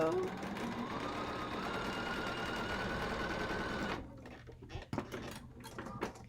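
Sewing machine stitching quilt block pieces for a Dutchman's Puzzle block, a steady dense whir for about four seconds that then stops, leaving quiet room sounds and small handling noises.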